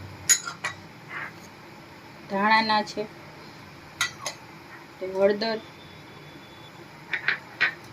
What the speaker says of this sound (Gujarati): આપણે એક આ સ્ટીલના વાસણમાં આ બધા કુરિયા એડ કરીને મિક્સ કરી લેશું